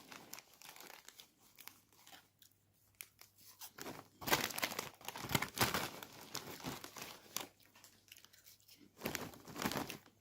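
A crinkly plastic bag of Lulu Puffs cheese-flavoured chips is torn open and handled up close, with irregular rustles and crackles that swell into louder bursts of crumpling.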